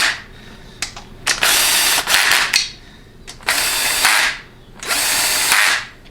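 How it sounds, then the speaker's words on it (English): A quarter-inch impact wrench tightens bolts on a 6R80 transmission during final assembly, firing three loud, close rattling bursts separated by short quiet pauses. "Quarter-inch impact is fine."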